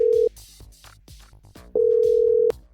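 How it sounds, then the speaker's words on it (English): A phone's ringback tone sounds twice through a handset, a short steady beep then a longer one, with quiet background sounds between. "Right, it's ringing."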